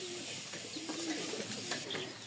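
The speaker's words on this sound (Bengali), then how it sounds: "এই হচ্ছে কবুতর জোড়াটা," A pair of Giribaz pigeons cooing nearby, soft low rolling coos repeating over a quiet background hiss.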